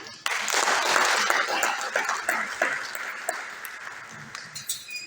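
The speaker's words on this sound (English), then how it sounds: "You should clap for him." An audience at a university event breaks into applause, a dense burst of clapping that starts abruptly, stays strong, then thins into scattered claps toward the end.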